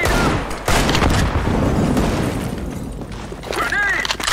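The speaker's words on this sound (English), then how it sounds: "Grenade out." Loud burst of Counter-Strike: Global Offensive gunfire with a blast of grenade explosions, dense and continuous, with sharp ringing tones near the end.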